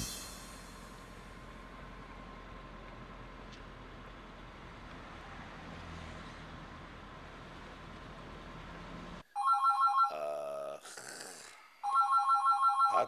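A telephone rings loudly in repeated electronic bursts after a stretch of quiet, low background noise, with a short pause between the two ringing bursts.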